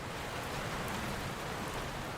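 Steady rain falls as an even, dense hiss of drops with no distinct rhythm, moderately quiet and unbroken throughout.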